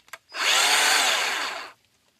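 A Bauer 20-volt cordless battery chainsaw whirs up sharply after a couple of clicks, holds a loud steady electric whine for over a second, then cuts off and winds down to silence.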